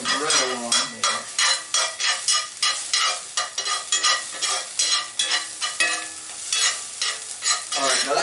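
Food is stirred as it fries in a pan, with continuous sizzling broken by rhythmic scraping strokes of the spoon, close and fairly loud, with no voices.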